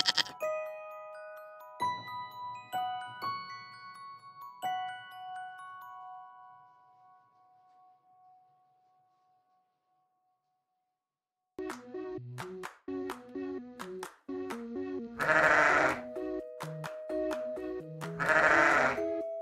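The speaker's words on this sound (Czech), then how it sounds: "A takto bečí ovce." Sheep bleat several times in loud, wavering cries in the second half, after a stretch of clear chime-like tones that fade into silence.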